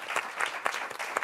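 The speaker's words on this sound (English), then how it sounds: "Round of applause for our incredible panel." An audience claps for a panel at a talk on global order, brief, moderately loud applause with a few sharper claps standing out.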